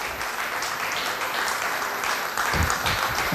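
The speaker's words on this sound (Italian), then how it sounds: "Un applauso." Outdoor audience applauding at a clowns' show, a soft, even spread of clapping from a moderate distance, with a few louder low thumps near the end.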